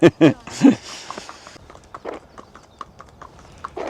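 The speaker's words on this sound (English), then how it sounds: "Lovely little horse there." A horse walks past with loud, close clip-clop hoofbeats at first, the steady rhythm then fading to softer, more distant steps as it moves away.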